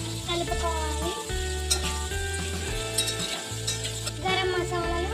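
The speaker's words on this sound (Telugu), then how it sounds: "తన్నింటిని కాసేపు వేయించుకోవాలి." Spices fry in a pan for bagara rice, a continuous sizzle under a voice talking over background music.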